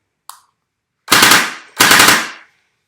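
JinMing M4A1 Gen 8 gel blaster firing on full auto: a short single click, then two loud, close sustained bursts of rapid rattling shots, each about half a second long, separated by a brief pause.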